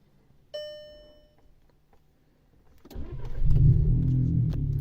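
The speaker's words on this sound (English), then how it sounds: "now when I start the car" Car engine cranks and catches after a brief door-chime tone, then settles into a steady low idle rumble, close and fairly loud, with no talking.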